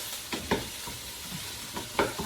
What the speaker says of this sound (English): now I'm just going to stir this in